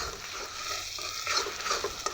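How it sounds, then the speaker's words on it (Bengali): Beaten egg fries in hot oil while a spatula stirs and scrambles it into shreds, a busy sizzling hiss with scraping and swishing strokes against the pan, close and fairly loud, with nobody talking. "এবার খুন্তি দিয়ে নাড়িয়ে এটাকে ঝুড়ি বানিয়ে"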